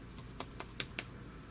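Five quick keystrokes tapped on the keyboard of an old Lombard PowerBook laptop, faint, close clicks in an uneven rhythm over a quiet room hiss.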